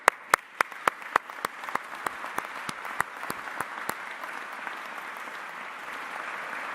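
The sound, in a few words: applause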